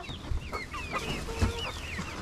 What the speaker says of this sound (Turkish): 4 tane beyaz tavuk kaldı. 4'ü de yumurtluyor.